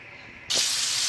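Marinated chicken hitting a lightly oiled pan, a sudden loud broadband sizzle that jumps in at once and holds steady and close, with no talking.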